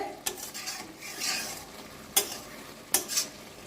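Spinach curry being stirred in a pan, a quiet sizzle broken by several sharp scrapes and clinks of a utensil against the metal, close, with no talking.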